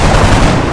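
Gunfire from XCOM: Enemy Within, a loud, dense burst of shots filling the whole moment with continuous booming rattle, no pauses between reports.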